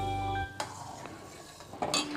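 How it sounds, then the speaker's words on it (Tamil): A burst of dry semolina pours into a pan of boiling water, followed by metal clinks and scraping as it is stirred. "இப்போ ரவையை போட்டுக்கிறேன்."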